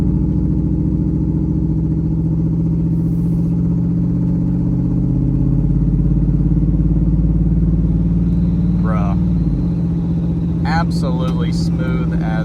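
An off-road truck cruising at highway speed, a steady loud engine drone and road roar throughout, with a brief shift in pitch near the end and some faint rattles on top.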